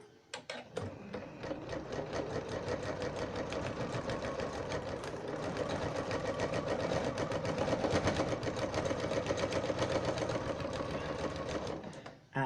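A sewing machine runs steadily for about twelve seconds, stitching binding onto a fabric pot holder, its fast, even mechanical chatter close and continuous, with a brief start at the beginning and a stop at the end.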